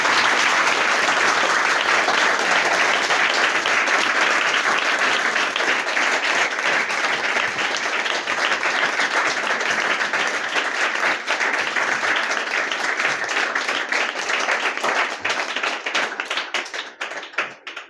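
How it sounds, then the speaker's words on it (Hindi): Loud, sustained applause from an audience at a ceremony honouring a NEET all-India rank topper, dense clapping filling the whole stretch and thinning slightly toward the end. "आप लोग फिर से एक बार जोरदार ताली के साथ देखिए"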